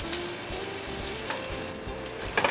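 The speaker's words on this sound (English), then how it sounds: "We're gonna just let it sear like this" Pesto-crusted ahi tuna searing in a hot pan, giving a steady, close crackling sizzle that runs without pause, no voices.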